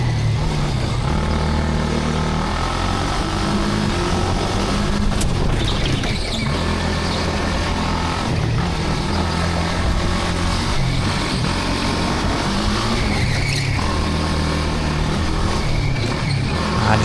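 A 15 hp six-speed shifter kart on an indoor track holds a loud, steady engine drone throughout, with rising and falling revs as it accelerates through the corners.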